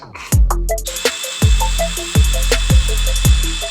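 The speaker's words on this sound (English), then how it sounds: "Now I know the center, so I just have to drill a hole there" Power drill boring a hole into wood for a DIY side table, several short bursts of the motor whining up and cutting, separated by brief pauses, close and fairly loud.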